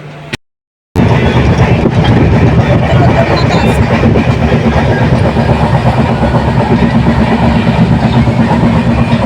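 A train running along rails, heard from inside as a loud, steady rumble and rattle after a brief silent gap at the start.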